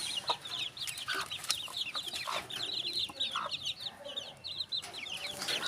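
A batch of young chicks chirping together, a continuous chorus of high thin peeps with some clucking, close and steady throughout, no talking.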